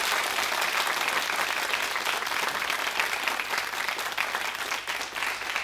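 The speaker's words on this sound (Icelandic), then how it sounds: "Við klappa fyrir hann svo hann byrjar." A studio audience claps continuously and fairly loudly, a dense even wash of applause that stays strong throughout, just before a young boy sings on a television show.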